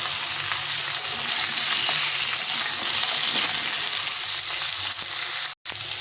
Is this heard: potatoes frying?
yes